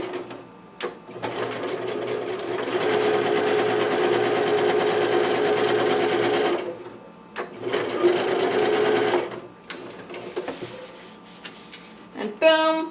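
A sewing machine stitches across a fabric box corner in two sustained runs, the second shorter, with brief handling clicks and pauses between them.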